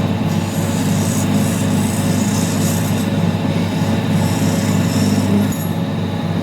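Sanding an opal stone during a roughout session, with a continuous loud grinding rush and a steady low hum that lasts throughout, with no one talking.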